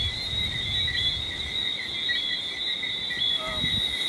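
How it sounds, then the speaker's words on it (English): Coqui tree frogs call through a damp night at a restaurant, forming a steady, high, continuous chorus with a brief pulsed note near the end. "Right now we're hearing the frogs because it's very, very damp."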